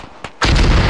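Mortar rounds fire in the video game Arma 3 with a heavy, booming launch that bursts out loudly and rumbles on, preceded by a faint thump.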